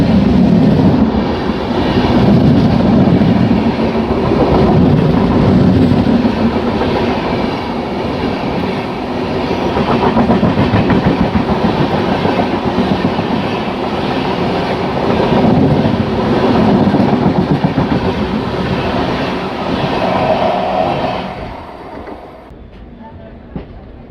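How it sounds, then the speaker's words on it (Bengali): The Howrah–Jabalpur Shaktipunj Express rolls past at close range outside Asansol, with loud, continuous rumbling and clattering carriages. The noise lasts about twenty seconds before cutting off abruptly, and a faint voice can be heard. "হাওড়া জবলপুর শক্তিপুঞ্জ এক্সপ্রেস।"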